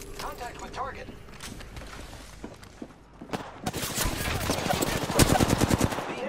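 Gunfire in the Apex Legends video game, dense rapid bursts of shots building from sparse cracks into heavy sustained automatic fire, mixed with game effects and a voice speaking early on.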